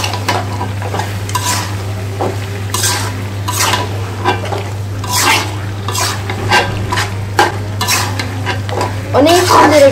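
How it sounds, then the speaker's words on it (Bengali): Duck meat stirred while frying in a spiced pan, loud continuous sizzle with repeated scraping and clanking of the utensil against the pan, close up, no talking. "মাংসগুলো এখানে আমি দিয়ে দিব, তারপর আমি একটু নেড়ে কেড়ে দিব।"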